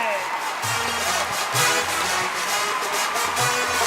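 An audience at a live event applauds the poet Kumar Vishwas, a loud and steady roar of clapping and cheering with music and voices mixed underneath.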